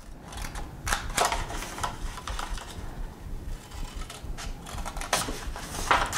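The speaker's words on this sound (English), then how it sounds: "on each long side, you're going to cut at the score line. So you're cutting 4 slits." Blade cutting four slits into scored cardstock, a quiet series of crisp snips and taps in an irregular rhythm, close and faint with no talking.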